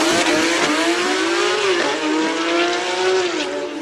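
A race car accelerates hard up a hill-climb course at the Speed Classic in Cape Town, its engine a loud, close, sustained howl rising and dipping through gear changes.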